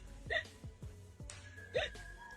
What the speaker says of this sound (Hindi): देखो इतनी हिचकी क्यों आ रही है?